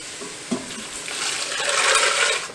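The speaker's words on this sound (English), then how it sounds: "Add the stock to our chorizo soup" Stock pours into a pot of chorizo soup as a steady, rising liquid splash and hiss lasting a couple of seconds, heard alone up close.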